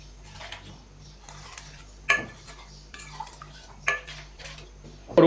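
Beef and about two glasses of water being stirred in a cooking pot for aloo gosht, giving scattered clinks and scrapes of a utensil against the metal, with a few sharper knocks standing out over a quiet kitchen background.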